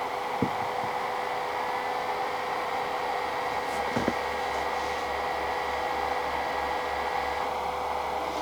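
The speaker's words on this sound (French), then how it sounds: "Donc honnêtement ça reste quand même assez silencieux. Ça reste quand même plus bruyant que le ventilo d'origine" Three cooling fans on a Raspberry Pi run with a steady, fairly quiet whir and a constant hum. A couple of faint clicks come in the middle, and no one speaks.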